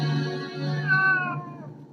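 A cat lets out one drawn-out meow with a rising, wavering pitch that fades at the end, close and fairly loud, with no talking over it.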